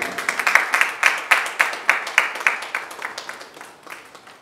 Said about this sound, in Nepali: जोरदार ताली उहाँका लागि।